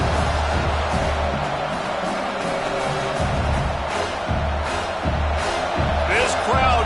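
A stadium crowd at a Michigan vs Washington college football game roars in a steady, dense wall of cheering and noise, swelling slightly toward the end, under a commentator speaking.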